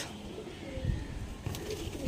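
Punjabi Malbari pigeons cooing from an opened box, soft low coos repeating near the listener over faint background noise, with a brief sharper sound near the end.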